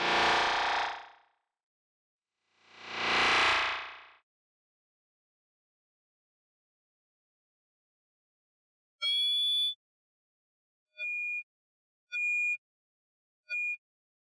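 A Valhalla Freq Echo delay plugin running at full feedback, self-oscillating on noise inside a DAW: two swelling washes of noise, a pause, then a burst of sharp metallic tones and three shorter repeating pinging blips, all alone.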